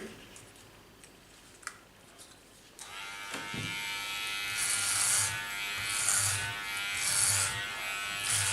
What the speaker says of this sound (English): Now we come to the last clipper comb. There's 3.